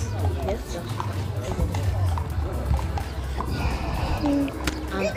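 Horses clip-clopping along a street during a Pentecost parade, with steady hoofbeats under continuous crowd chatter and voices close by.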